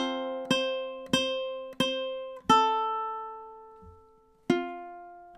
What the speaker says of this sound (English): So measure 13 should sound something like this in time.